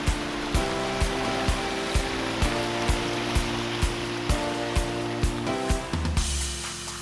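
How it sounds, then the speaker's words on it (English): Steady splashing rush of a small waterfall after a dry spell, continuous and fairly close, in Cliff Gilker Park on BC's Sunshine Coast, with regular soft thumps repeating through it like footsteps. "it hasn't rained in a little while, so the waterfall's not that big"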